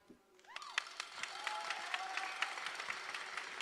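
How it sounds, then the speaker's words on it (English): A pageant crowd at Miss Grand USA 2023 gives a round of applause, faint and distant, swelling into steady clapping after a brief whoop-like cry at the start. "Round of applause."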